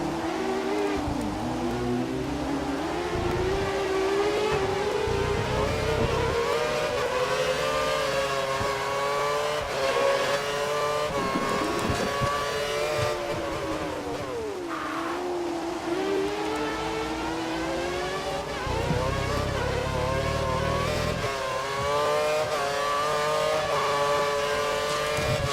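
Formula 1 race cars from the video game F1 2013 at Spa, a loud continuous engine whine rising and falling through gear changes as cars race past, steady throughout without talk.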